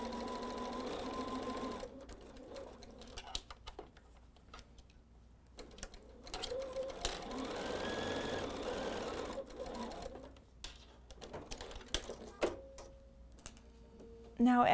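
A sewing machine stitches through the layered fabric of a tree-themed table runner, running in long, steady whirring bursts with brief pauses and a few clicks, close and clear.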